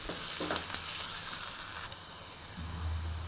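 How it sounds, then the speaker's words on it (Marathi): Sliced onion fries with ginger-garlic paste in a pan for a bean and potato dry curry, a steady hiss and sizzle with a few stirring scrapes and a low rumble near the end. "कांद्याबरोबरच अद्रक लसूणची पेस्ट भाजून घ्यायची आहे. त्याच्यामध्येच व्यवस्थित असं गोल्डन कलर येईपर्यंत कांदा छान असा फ्राय करून घ्यायचा."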